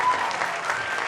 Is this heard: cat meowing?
no